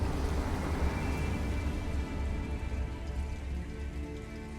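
Steady rain falling on surfaces in the video game Detroit, a dense, continuous patter with low rumble underneath, filling the whole stretch without any talk.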